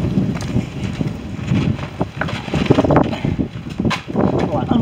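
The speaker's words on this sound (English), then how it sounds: "I'm just gonna stop here for a minute because it's really windy." Strong gusts buffet the microphone outdoors, a loud continuous low rumble of wind noise that swells and dips throughout, with no voices.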